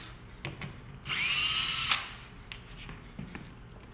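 A power drill backs out a screw from a golf simulator stance mat in one whirring burst of about a second, close and clear, amid faint handling clicks.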